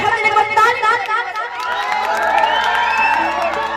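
Lively crowd at a dance show cheers, whoops and shouts in a dense, continuous roar for a small boy dancing, with children's voices mixed in and people talking through it.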